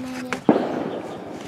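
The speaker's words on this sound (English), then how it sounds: "Somebody's firing firecrackers or something over there." A single distant firecracker pop rings out briefly over a steady outdoor background at a wildlife sanctuary in Chiang Mai.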